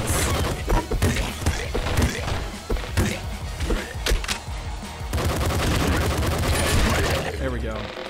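Rapid SMG gunfire in the video game Nuclear Throne, made up of dense repeated bursts of loud shots that run almost continuously alongside other game effects and music.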